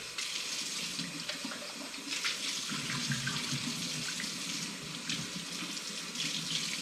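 Water runs from a kitchen tap during rinsing, a steady close splashing hiss that swells briefly as the stream strikes something, with no talking.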